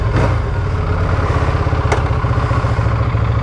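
A 2023 Buell Hammerhead 1190 sport motorcycle rolls out onto a racetrack pit lane, its engine giving a steady, close, low pulsing rumble with a brief clack partway through and no talk.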